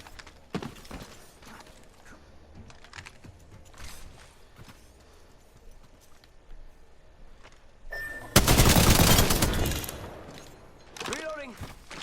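Automatic and single gunfire from an Apex Legends match, bursts of shots scattered through the fight with a loud close volley near the end, mixed with footsteps and game effects and a voice speaking over the action.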